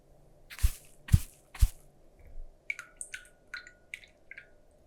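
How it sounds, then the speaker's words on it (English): A wet paintbrush splashes water onto watercolor paper while painting stormy rain clouds: three soft, close wet dabs in quick succession, then quieter light ticks and small squeaks from the brush. "And splash in a bit more water to feather it out."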